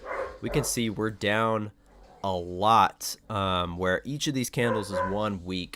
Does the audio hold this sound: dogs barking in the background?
yes